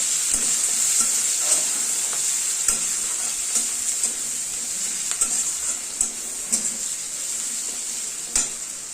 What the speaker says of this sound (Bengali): পেঁয়াজ কুচিগুলো দিয়ে দেবো লঙ্কা চিরাগুলো দিয়ে দেবো দিয়ে নেড়ে ফেলে দেবো